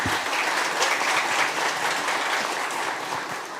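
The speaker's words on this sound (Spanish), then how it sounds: "Un aplauso, por favor, para nuestra panelista." Steady, dense applause from an indoor audience welcoming a panelist at an education leadership event in Ecuador, filling the whole stretch at even loudness with no talk over it.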